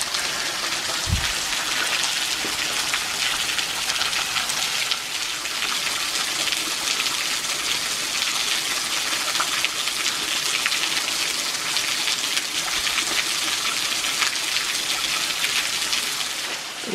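Waterfall in Bankhead National Forest, the last and eighth falls of a day's hike, sending up a steady, dense rush of falling water that holds at an even loudness throughout, with no voices.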